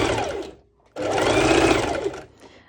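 Close sewing machine running a basting stitch on a pole dance top, two bursts of whirring separated by a short pause, the second longer and louder.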